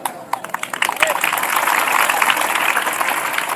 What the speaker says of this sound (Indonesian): Kenapa kamu tepuk tangan?